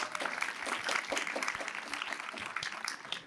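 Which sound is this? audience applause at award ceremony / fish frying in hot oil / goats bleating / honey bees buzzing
audience applause at award ceremony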